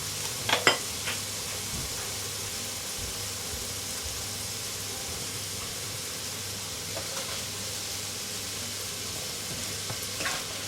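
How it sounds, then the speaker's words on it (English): Onions, garlic, carrots and capsicum frying in a pan for a tuna bake, a steady close sizzle and hiss with a few brief clinks of stirring near the start and end. "So we've got capsicum, onion, carrots, all cooking along in there."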